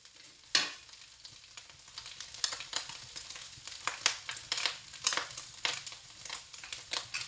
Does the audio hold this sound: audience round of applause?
no